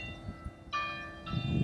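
Church bells at Núria ring in short, clear metallic tones, two separate strikes heard faintly against background rumble and low noise.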